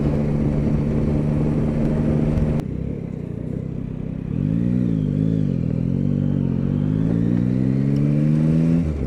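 A Yamaha Tracer 9 motorcycle engine runs steadily while riding, a loud continuous drone that dips briefly, then rises again through smooth climbing revs over constant wind roar.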